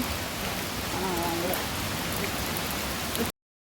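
Heavy rain falls steadily at a hilly waterfall spot, a dense, loud, even hiss of drops on surfaces that fills the whole stretch before cutting off abruptly.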